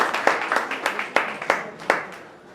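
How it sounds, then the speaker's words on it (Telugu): An audience claps at an anniversary celebration, with a run of sharp, spaced hand claps that grow a little sparser and fade toward the end. "కొంచెం గట్టిగా చప్పట్లు కొట్టచ్చు"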